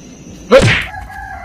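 A rooster at a backyard chicken coop lets out a short, loud crow-like call that rises sharply then trails off, standing alone over faint background noise.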